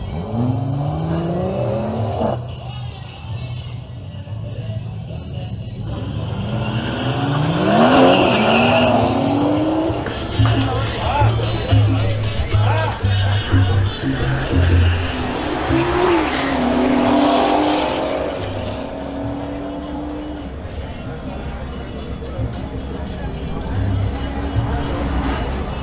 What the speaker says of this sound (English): Now facing off are John Loaiza in his BMW X4 M40i versus Luis Majana in his BMW M240i.